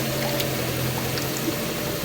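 Water drains steadily from freshly washed pechay (bok choy) in a kitchen, a continuous close pouring and trickling hiss that holds even for about two seconds, with no talking.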